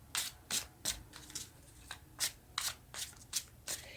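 A deck of tarot cards is shuffled by hand in quick, crisp riffling bursts, about ten brief rustles in an uneven rhythm, close and fairly quiet with no talking.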